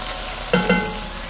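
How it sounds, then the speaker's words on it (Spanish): Onion sautéing in a pan for a chicken pipián dish, a steady soft sizzle with two brief louder stirring scrapes near the middle, close and alone without talk. "Vamos a darle una sofrita a la cebolla."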